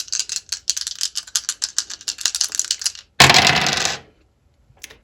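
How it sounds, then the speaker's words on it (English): Dice rattle rapidly, like many small hard objects shaken together, then a louder dense clatter as they are thrown and land, followed by near silence and a faint click. "So let's throw the dice. Protect your ears, this is going to be loud."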